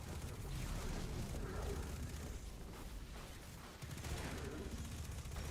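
Rapid hand cannon fire in a Destiny gameplay match, dense and continuous shots layered over a busy wash of game effects and low rumble throughout.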